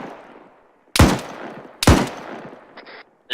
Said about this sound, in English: we got a hostile in that compound building with the overhead. They've been shooting at me.